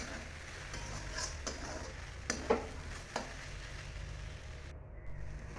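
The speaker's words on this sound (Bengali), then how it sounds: "আর একটু ভেজে নেব।" Boiled taro (kachu) fried and stirred in a pan makes a quiet, continuous sizzle, with a few sharp utensil scrapes and knocks against the pan rising above it.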